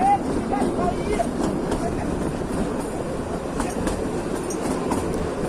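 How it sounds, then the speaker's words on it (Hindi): Kalka–Shimla toy train running through the hills, a steady close rumble of rail cars with faint clickety-clack of wheels on track, continuous and moderately loud, with light talk over it. "एकदम पहाड़ियों के बीच में चलती हुई ट्रेन।"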